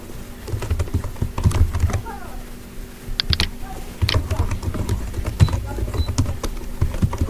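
Rapid keystrokes on a computer keyboard as a first and last name are entered into an account form, with steady close clicking that pauses briefly mid-way before resuming.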